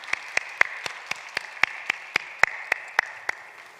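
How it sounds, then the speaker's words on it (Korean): Church congregation applauding during a Sunday service, a thin patter of hands under a few louder, evenly spaced claps, moderately close and unaccompanied by talk. "박수 드립시다."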